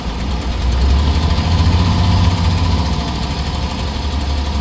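The engine of a 1929 Chevrolet International Phaeton running at low speed in second gear, a steady close-up low rumble with a throaty vintage rhythm that swells briefly before settling, with no talk over it.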